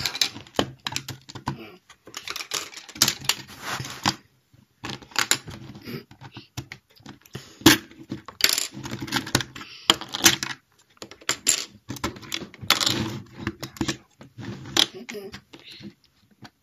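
A LEGO code safe being opened: a series of plastic clicks, rattles and snaps in irregular bursts, close by, with a person talking between them.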